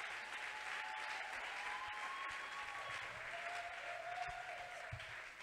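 Sustained applause from a church congregation during a worship service, steady and dense for the whole stretch with faint cheering and a voice over it.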